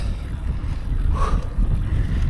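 Wind blows across an open mountain road on the Babadağ–Aydın border during a long climb, a steady low rumble buffeting the microphone with no clear voices.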